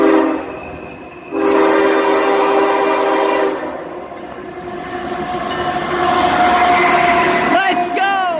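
A Canadian Pacific locomotive rolls past with its K5HL air horn sounding in long, loud blasts, followed by the rumble and clatter of the passing train.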